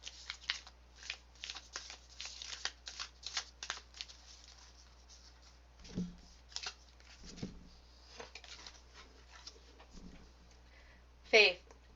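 Quick riffling bursts of cards being shuffled, repeated several times, with a few softer thumps and a sharp crinkle near the end.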